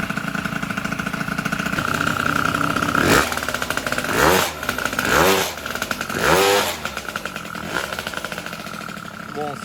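A Peugeot 103 moped fitted with a Doppler kit revs in repeated bursts, each rising and falling over a steady engine drone, loud and close, with voices talking over parts of it.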